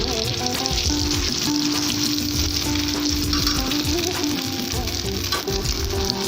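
Shami kebabs fry in hot oil with a steady, dense sizzle that holds evenly from start to finish, close up, with occasional light stirring noises.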